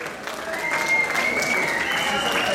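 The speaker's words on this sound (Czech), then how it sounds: "Pojďte dáme potlesk, jako takový jingle," Audience applause at a fencing society's UV show, steady dense clapping from a crowd filling the room, with a faint whistle-like tone drifting over it.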